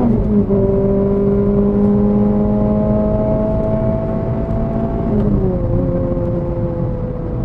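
A Renault Clio RS3 engine revs steadily as the car accelerates from inside the cabin, its loud, continuous drone climbing in pitch and then dropping briefly as it shifts gear.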